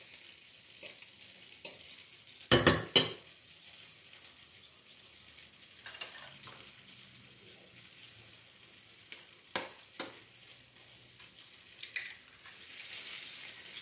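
Eggs cracked into a pan of dried sucuk simmering in tomato sauce, giving a soft, steady frying sizzle with a few sharp knocks and clatters from cracking and stirring, moderately quiet with no talk.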